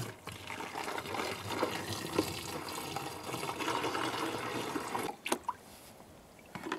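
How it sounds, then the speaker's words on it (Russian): Liquid solution being poured from a small jar into a bottle: a steady splashing, trickling pour close up that runs for about five seconds, then stops with a few last drips and small knocks. "Так, теперь мы это заливаем в эту бутыль."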